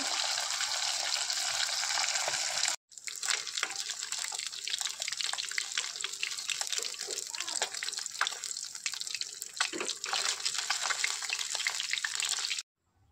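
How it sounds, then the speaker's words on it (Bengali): Fish fries in a pan of hot oil with a loud, dense hiss and bubbling crackle that runs throughout. It drops out for a moment near the start, and a faint voice sits in the background at times. "প্রথমে আমি মাছগুলা ভেজে নিই"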